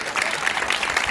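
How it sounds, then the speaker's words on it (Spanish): Audience applause at an outdoor street theatre performance, a steady dense patter of many hands clapping close by, sustained evenly throughout without voices. "yo quisiera pedir el aplauso más grande de esta tarde para don Juan Vázquez"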